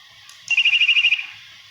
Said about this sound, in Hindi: चिड़िया की आवाज है।